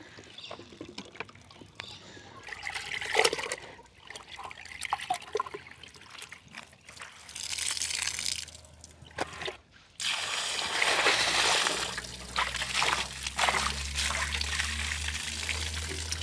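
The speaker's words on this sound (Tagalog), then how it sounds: "Tubig lumalabas, it's very slow." Water trickles and splashes steadily as it drains slowly out of a non-electric, hand-operated washing machine during rinsing, with a low rushing flow growing louder partway through and faint talk beneath it.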